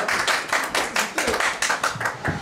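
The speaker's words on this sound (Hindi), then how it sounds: "आपकी तालियों की गूंज में" An audience at an award ceremony gives a burst of applause, rhythmic rounds of hand clapping pulsing steadily and fairly loud throughout, with no voices on top.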